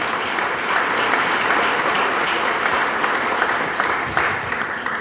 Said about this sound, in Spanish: dele palmas al Señor si eso es su deseo